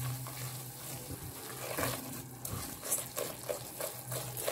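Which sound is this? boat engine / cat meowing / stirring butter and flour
stirring butter and flour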